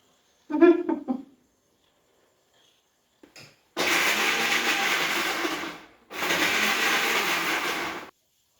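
A mixer grinder whirs through chammanthi made with tamarind, salt and curry leaves, in two loud, steady bursts separated by a brief pause. A short vocal sound comes before the grinding.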